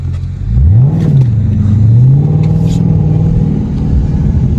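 A Dodge Charger Scat Pack's engine revs hard and loud while the car slides around a corner, its pitch climbing, dipping and holding in a sustained roar with no one speaking.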